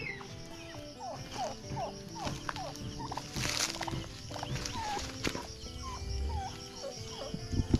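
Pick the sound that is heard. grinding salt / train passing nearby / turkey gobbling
turkey gobbling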